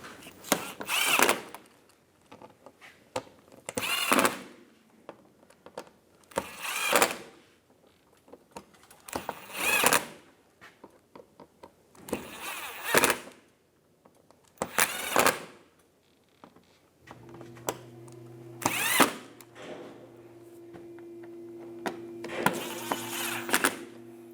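A power tool drives in and tightens screws on a 2011-2015 Chevrolet Cruze during a coolant temperature sensor replacement, heard as about eight short whirring bursts separated by pauses, with a low steady hum entering near the end.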